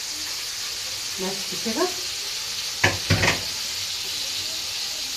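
Breaded chicken panee sizzles and hisses in a frying pan with a steady background crackle, brief clatters of a piece being added, and a short stretch of speech near the start.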